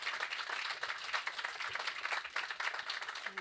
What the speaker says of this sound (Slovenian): en lep aplavz